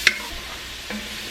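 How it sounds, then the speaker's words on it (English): Onions and garlic stirred in sausage fat in a pan, a brief scrape near the start and another soft scrape near the end over a steady faint sizzle. "we're gonna keep constantly stirring this so it doesn't burn"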